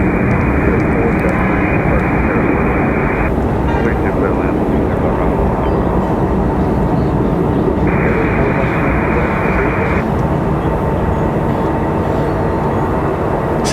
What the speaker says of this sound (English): Southwest rotating early and getting out of here